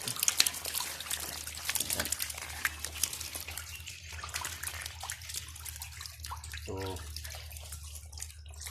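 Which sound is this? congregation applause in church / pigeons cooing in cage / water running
water running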